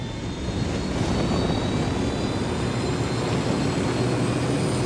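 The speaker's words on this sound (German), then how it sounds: "Ich liebe die neue Hubschraubersteuerung." A helicopter flies in the video game Ghost Recon Wildlands, a steady dense rotor and engine drone that holds evenly and loud, with no talking.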